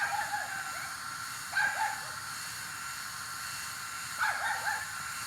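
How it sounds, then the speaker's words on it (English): A small poodle yips twice, a few seconds apart, at a moderate distance over a steady hiss of background noise. "I got this dog barking now."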